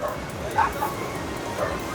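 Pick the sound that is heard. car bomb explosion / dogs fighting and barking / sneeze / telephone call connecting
dogs fighting and barking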